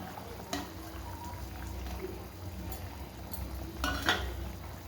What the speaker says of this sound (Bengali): দেখুন ঝোল একদম ফুটছে টকবক করে ফুটছে